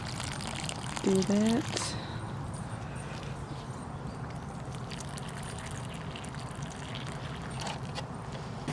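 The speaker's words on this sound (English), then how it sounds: "we're just gonna give them good water" Water pours over freshly transplanted lettuce in a fall garden bed, a soft continuous hiss and trickle running along steadily while a person briefly speaks nearby.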